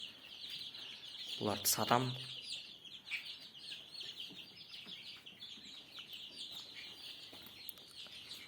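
Turkey and chicken chicks gather together in one place, their continuous high peeping and cheeping carrying steadily throughout, with a brief louder burst of voice-like calling near the start and a person speaking over the chicks.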